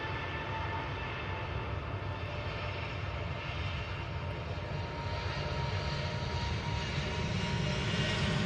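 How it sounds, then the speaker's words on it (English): A Swiss Airbus A320neo departing Manchester Airport for Zurich produces a sustained jet-engine roar, steady and fairly distant, with a faint rising whine toward the end. "Swiss A320 Neo, now going back to Zurich."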